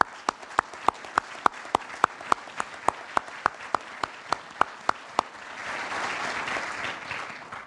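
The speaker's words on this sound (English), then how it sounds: "How about a round of applause?" Audience at a military change of command ceremony gives a round of applause: sharp, evenly spaced claps stand out for about five seconds, then give way to a denser, steady wash of clapping from the crowd.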